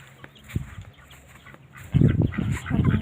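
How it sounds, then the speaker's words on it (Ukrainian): Chicks cluck outdoors in a low, busy burst after a quieter opening with a few scattered calls, fairly close and without talk. "ось де пасуться курчата."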